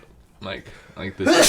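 A man sneezes once with a sharp, close burst at the end, just after casual podcast talk by several men.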